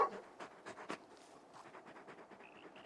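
Torgal, a large hound in Final Fantasy XVI, eats with soft, quick chewing and lapping noises alongside faint panting. The sounds are fairly quiet and close, and no one speaks.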